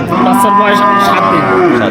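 A Sahiwal dairy cow at a village cattle market gives a loud, drawn-out moo close to the microphone.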